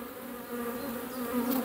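Honeybees at an open hive during a spring inspection, a close, dense buzzing hum with one bee droning nearer as it circles.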